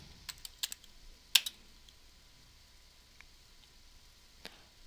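A few scattered keystrokes on a computer keyboard, entering a name into a search filter: sparse soft clicks in small bursts, one louder cluster, then a long quiet stretch with a single late tap.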